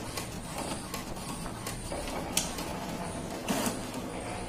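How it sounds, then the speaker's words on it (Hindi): A new printer prints a page, giving a whirring, creaking mechanical run with a few sharper clicks and clunks, moderately close and with no talk. "अब यहाँ से देखिए पेज प्रिंट होकर निकल रहा है"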